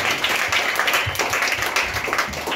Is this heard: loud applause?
yes